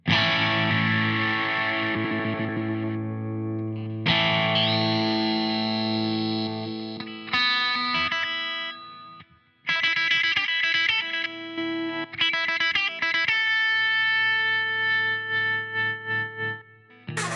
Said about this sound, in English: They got a fuzz distortion.